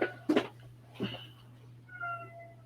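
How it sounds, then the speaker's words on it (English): A domestic cat cries indoors in a few short, separate meows, close and moderately loud over a steady low electrical hum. "if you hear my cat crying,"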